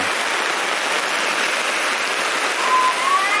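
Rain pours steadily during a boat crossing of the Mekong River, a dense, even hiss that fills the whole clip without a break, with a faint thin whistle rising near the end.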